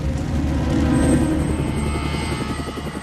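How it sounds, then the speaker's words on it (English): An arriving military helicopter for a special operations unit roars steadily and close, its rotor chopping in a dense continuous throb with a high whine over it throughout. "SOG 대원들과 헬기 조종사들을 데려가기 위해 또 한 대 헬기가 도착했다."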